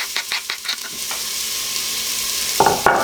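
Onions sautéing in a hot Instant Pot, with a steady close sizzle and a few quick scraping stir strokes at the start and again near the end, no voices.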